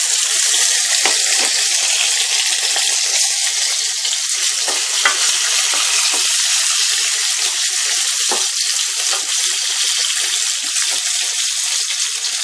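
Coarsely chopped onion and four garlic cloves frying in hot oil, a dense, loud, steady sizzle with scattered pops and small crackles throughout, no voices.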